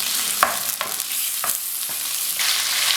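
Lamb pieces braise in a hot pan with a steady, close sizzle and several sharp clinks and scrapes from stirring, the frying hiss growing louder toward the end.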